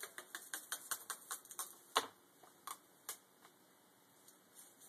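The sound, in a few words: peeling a piece of tape back up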